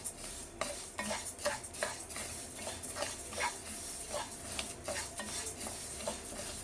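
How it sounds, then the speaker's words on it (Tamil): Ingredients dry roasting in a kadai for a Vinayagar Chaturthi prasadam, a spoon scraping and stirring in a steady rhythmic pattern with faint crackling, close and moderately quiet. "நல்லா நம்ம வந்து கடாயில் வதக்கிட்டோன்ட்டு நம்ம இந்த மாதிரி சத்தம் வரும்."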